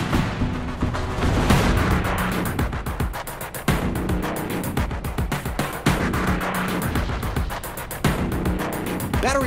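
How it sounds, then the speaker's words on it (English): Guided missile explosions on a firing range in the Tank Biathlon video game, a rapid series of loud booming blasts in close succession with sharp attacks and brief decays, heard without talk. "Now let's head over to the firing range for some good old-fashioned pyrotechnics and property damage in the guided missile"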